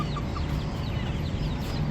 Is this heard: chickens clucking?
yes